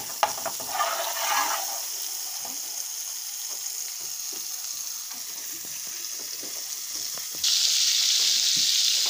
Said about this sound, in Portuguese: Derretendo a margarina